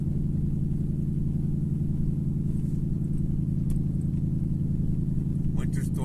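A car drives along a road at the onset of a winter storm, a steady low engine and road rumble running continuously throughout with no talk.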